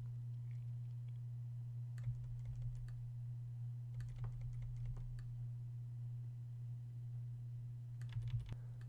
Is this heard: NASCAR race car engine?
no